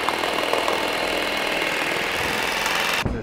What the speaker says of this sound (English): This is a machine with a broken throat plate. I'll show how it sews and what the stitches look like.